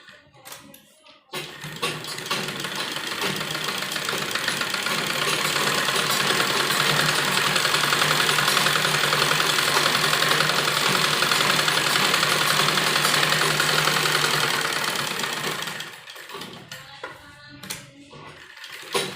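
Electric sewing machine running steadily for about fourteen seconds while stitching a seam on a kurti, a continuous motor whir with quieter handling before and after.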